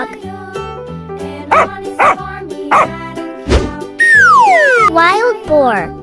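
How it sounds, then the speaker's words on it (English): Dog barks from a cartoon-style toy or animation sound, a few sharp yaps in quick succession mixed with childlike chatter and whistling, bright tonal squeals between the barks. "Dog."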